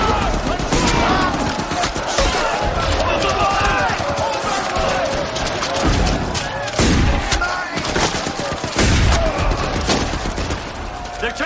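Rifle fire crackles through a World War I battle scene at Passchendaele, dense overlapping shots and sharp cracks sounding loud and close throughout, with shouted voices mixed into the chaos.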